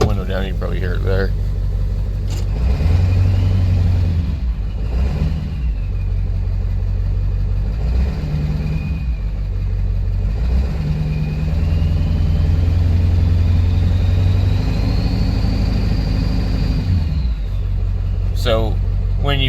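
A high-mileage 7.3 Power Stroke diesel truck with a straight-piped exhaust and turbo rumbles steadily and loudly from inside the cab, its turbo whistle rising and falling while someone talks over it.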